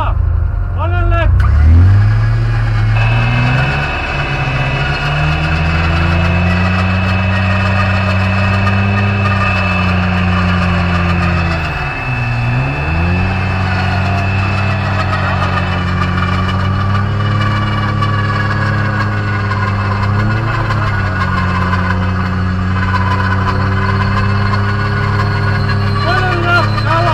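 A car engine held at high revs while its wheels spin, a loud, sustained strained drone that dips and recovers a couple of times, with people shouting in Bulgarian over it.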